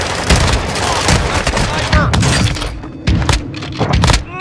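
Call of Duty: Modern Warfare II DMZ gunfire crackles in rapid, loud bursts with heavy thuds and impacts, close and chaotic, easing slightly then returning in sharp volleys near the end.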